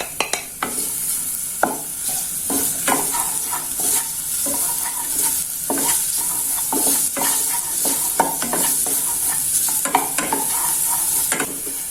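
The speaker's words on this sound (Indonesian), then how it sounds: "Dan di sini sudah saya panaskan sedikit minyak. Untuk bawang putihnya ini saya gosok dulu ya, saya tumis." Garlic sautés in a little hot oil in a pan, a steady sizzle broken by frequent sharp scrapes and taps of a spatula stirring, close and with no voices.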